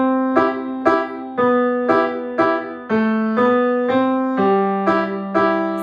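Piano chords struck heavily in a steady repeating rhythm, each ringing loud and full before the next, the low notes thick and prominent.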